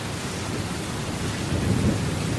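Steady rain falls in wet Welsh weather at a rally, a dense, even hiss that swells slightly toward the end, with no voices.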